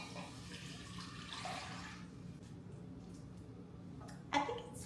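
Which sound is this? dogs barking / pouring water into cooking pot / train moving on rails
pouring water into cooking pot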